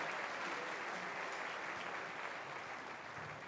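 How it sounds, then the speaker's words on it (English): Audience clapping for 7th grade music performers at a townwide school music festival, an even wash of applause throughout, somewhat distant and moderate in level. "Can you give them another round of applause, please?"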